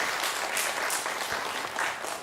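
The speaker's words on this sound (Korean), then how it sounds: "박수 한번 쳐주세요." Congregation in a church sanctuary clapping together after a shared testimony during a Sunday service, a steady dense wash of applause that holds evenly for the whole stretch without voices.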